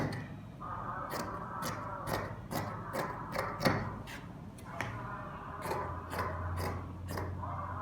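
Scissors cutting through four stacked fabric pieces for a dress. Crisp repeated snips come in quick bursts, close and clear over a quiet background.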